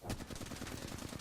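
Rapid automatic Alternator fire in the Apex Legends video game: a loud, steady burst of closely spaced shots lasting over a second, with no talk.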